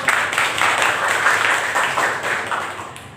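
Classroom applause during a physics lesson, a short burst of students clapping in fairly regular beats, moderately loud and close, with no talk over it.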